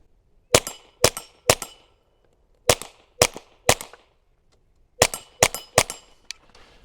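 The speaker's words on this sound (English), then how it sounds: "Let's shoot a little bit of the new can." A .22 rimfire rifle fitted with an AnechoX 22 suppressor fires about nine sharp, clipped shots in three quick bursts of three, with short pauses between the bursts and a faint metallic ring after each crack.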